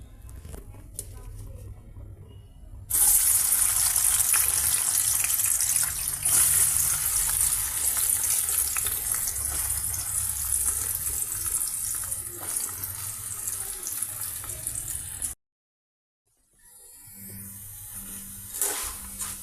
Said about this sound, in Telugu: ఇక ఈ పీసెస్ని మనం ఆయిల్లో యాడ్ చేసేద్దామండి.